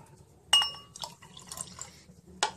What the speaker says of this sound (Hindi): ये जो हमारा पुदीने का पानी हमने बनाया है, इसमें डरमन रही, पहले हम ये ग्लास में ऐड करेंगे।